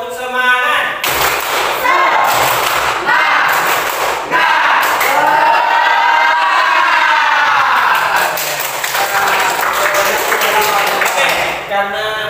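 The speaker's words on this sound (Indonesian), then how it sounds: "Oke, tepuk semangat." A classroom of students performs a rhythmic spirit clap, bursts of clapping in a patterned beat that is loud and close, with a voice heard between the claps.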